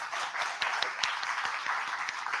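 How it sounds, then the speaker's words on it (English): Audience at a Black media story summit applauding, a dense steady wash of many hands clapping with a few sharper individual claps standing out, heard from within the room. "Let's give her another round of applause"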